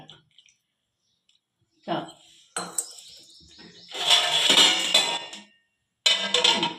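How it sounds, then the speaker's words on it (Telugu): A lid is set on a pot of stuffed eggplant cooking in oil after a splash of water, giving scattered metallic clinks and a ringing clatter, then a longer hissing burst, close up. "నూనె వేసి ఇప్పుడు ఒక నీళ్ళ చొక్క జల్లి మూత పెడతాం"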